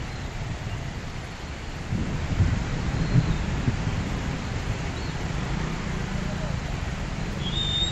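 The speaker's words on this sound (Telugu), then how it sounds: "హిమాయత్ నగర్లో వర్షం కురవగా రహదారులు జలమయమయ్యాయి" Rain pours over Hyderabad streets in Himayatnagar, where roads lie waterlogged: a steady, fairly loud broadband wash of falling water that swells slightly after the first couple of seconds and holds without pause.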